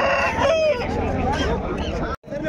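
A rooster crows loudly and close at a busy poultry market, one long drawn-out call with clucking fowl and market bustle around it.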